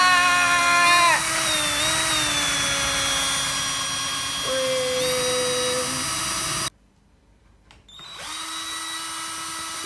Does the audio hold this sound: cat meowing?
no